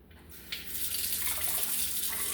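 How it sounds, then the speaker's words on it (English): Water from a kitchen tap is switched on and runs in a steady, close hiss and splash that holds at an even level after a brief quiet start. "So I'm going to turn the water on."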